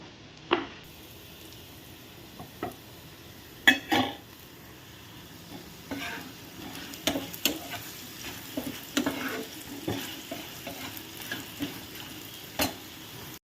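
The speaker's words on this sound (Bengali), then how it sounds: "কলাগুলো ভেজে নামিয়ে নিলাম" Bananas frying in a pan over a gas flame, with a soft steady sizzle broken by sharp clinks and scrapes of stirring at irregular intervals, close and fairly quiet, no talking.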